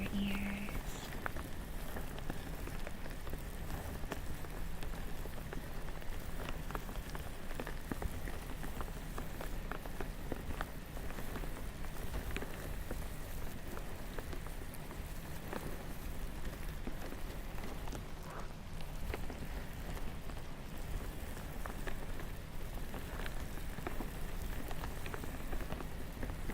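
Rain falls steadily on surfaces, filling a cozy indoor room ambience with a soft, even patter and pitter of drops that holds constant and fairly quiet throughout, with no talking.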